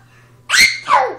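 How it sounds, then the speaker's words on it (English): A young child fakes sneezing up close: two quick, loud, breathy sneeze bursts, the first sharper and the second lower and drawn out, after a brief quiet lead-in. "How come you're sneezing?"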